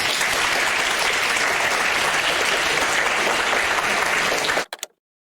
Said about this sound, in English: Everyone, please give one last big round of applause to our honored